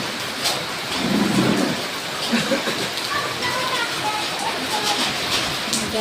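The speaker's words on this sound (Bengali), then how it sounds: "যেমন হাওয়া দিচ্ছে তেমন বৃষ্টি, ভীষণ বৃষ্টি" Heavy rain pours steadily with gusting wind in Andaman, a low rumble of thunder rolling through early on, the downpour loud and close throughout with no speech.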